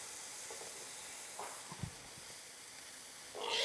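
Pork burgers sear in a skillet with a soft, steady sizzle and hiss, a few faint knocks and thuds in the middle, and a louder crackle rising at the end.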